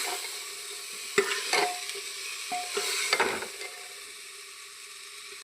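Cauliflower fries and sizzles in a pan while a spoon scrapes and stirs it in several quick strokes, the sizzle continuing softly between them.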